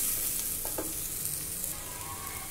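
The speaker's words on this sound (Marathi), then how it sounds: "कारलं घालू। छान मिक्स करून घ्यायचं आहे हे।" A pan of bitter gourd sizzles steadily while being stirred, with a soft continuous hiss and a couple of faint scraping touches, close and moderately quiet.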